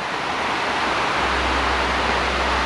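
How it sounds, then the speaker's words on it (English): A waterfall in Kansas roars as a steady, dense wash of falling water, loud and close, holding constant with no voices over it. "I was told I need to come here and check out this waterfall. I have not seen it yet, but I can sure hear it."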